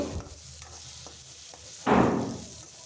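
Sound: onions and tomatoes frying in a pan, being stirred

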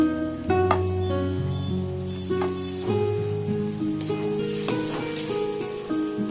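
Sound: tomato and green chilli frying with onions in a pan

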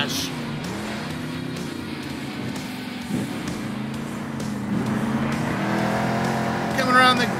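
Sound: monster truck engines racing in video game Monster Jam Steel Titans

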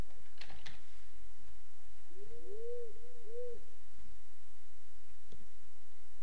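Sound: owl hooting in a video game

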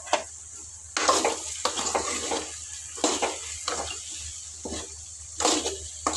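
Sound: stirring chopped capsicum in a pan

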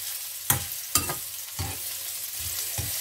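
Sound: stir-frying ginger in a pan

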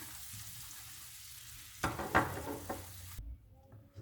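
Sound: mint and garlic frying in a pan

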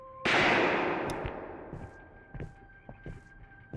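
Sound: gunfire in video game Nocturnal

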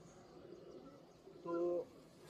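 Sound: pigeons cooing

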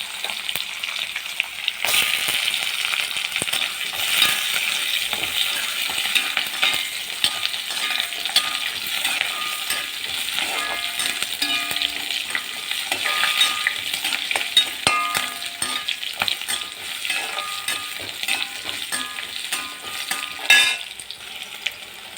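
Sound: curry leaves, shallots and carrot sautéing in a pan

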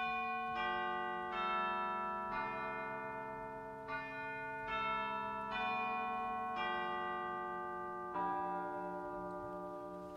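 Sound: digital chimes stop on an E.M. Skinner pipe organ

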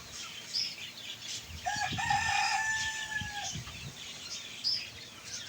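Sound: chickens and chicks clucking

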